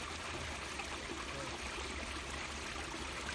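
A rural creek flows at a culvert in a continuous, even rush and trickle, moderately faint and unbroken, with no voices.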